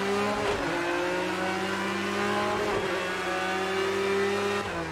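A racing car engine in the video game Project Cars 2 holds a high, droning rev with gear-shift dips, played through a sim rig setup, loud and continuous with no talk.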